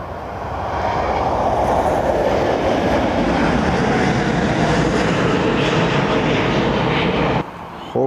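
A Ryanair Boeing 737 jet airliner roars in loudly while landing, its engine noise swelling and holding steady before cutting off abruptly near the end.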